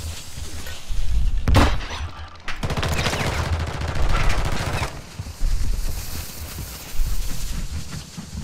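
Sniper fire in Call of Duty Warzone DMZ during a rooftop fight in a high-rise: a sharp, loud crack near 1.5 seconds, then a second blast, with dense game noise and rumble continuing around them.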